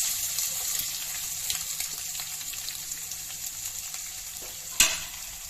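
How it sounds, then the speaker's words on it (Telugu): Chopped onions frying in a pan for bottle gourd curry, a steady close crackling sizzle with scattered pops and one sharp clatter of stirring near the end, no talking. "ఆనియన్స్ బాగా ఇందులో వేపుకోవాలి."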